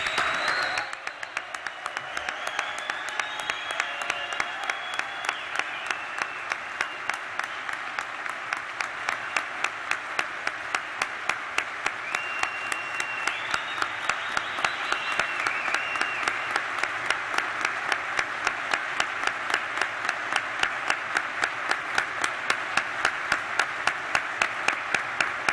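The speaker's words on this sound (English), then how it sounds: "could we give it up, a round of applause for D." An audience at a public memorial for D. Michael Collins gives a long, sustained round of applause, rising at the start and then settling into steady rhythmic clapping across the whole span, with scattered cheers and no speech.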